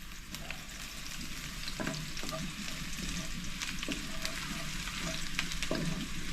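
Garlic and onion sautéing in a pan for adobong banana blossom, a steady close sizzle and crackle with occasional stirring scrapes throughout, no talking.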